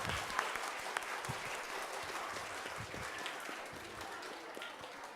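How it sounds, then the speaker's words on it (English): A crowd applauds at an awards ceremony, continuous dense clapping with a few sharper individual claps standing out, fairly faint and distant, steady throughout. "a big round of applause to everyone for this wonderful event"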